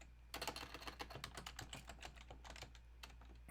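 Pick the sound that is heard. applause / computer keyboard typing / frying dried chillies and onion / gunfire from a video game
computer keyboard typing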